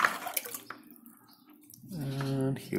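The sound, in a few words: watering a ficus pre-bonsai after transplanting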